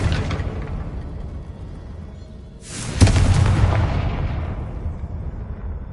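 A Confringo fire spell bursts in Hogwarts Legacy with a sudden loud boom, followed by a rumbling, crackling blast that slowly fades, over a softer earlier swell of game noise.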